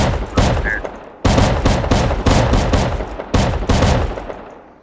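Rapid volleys of shotgun traps blasting buckshot in a video game base defense, several loud overlapping bursts each trailing off into a decaying echo, with faint voice sounds mixed in.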